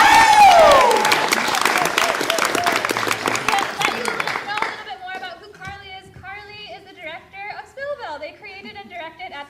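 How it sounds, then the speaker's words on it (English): Audience applause and cheering at a theater festival's new-works night, greeting a theater director. A loud burst of clapping fades after about five seconds, and scattered voices and talk follow. "Big round of applause."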